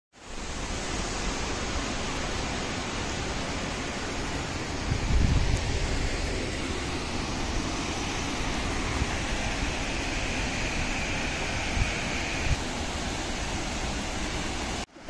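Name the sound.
Sita Falls waterfall near Ranchi, rushing water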